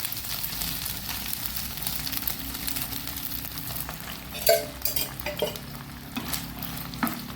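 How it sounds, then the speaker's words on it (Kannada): Chicken frying in oil in a pan over high heat for a spicy chicken pickle, a continuous close sizzle with scraping stirs and a few metallic clinks from a utensil in the second half. "ಈ ಎಣ್ಣೆಯಲ್ಲಿ ಇದೀಗ ಒಳ್ಳೆ ಫ್ರೈ ಆಗಬೇಕು"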